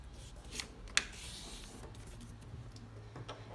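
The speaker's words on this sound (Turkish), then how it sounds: "Şimdi kağıdımızı ikiye katlıyoruz." A sheet of paper is folded in half during a children's art activity, giving a short crisp crease snap amid soft rustling and rubbing at close range, with no talking.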